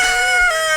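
A farm rooster crows once, loud and close, in a short sustained call with no talk over it.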